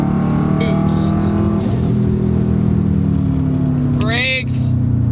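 A bugeye Subaru WRX accelerates under turbo boost, its engine droning loud and close in a steady rising pull throughout, with a brief shift-like dip near the end.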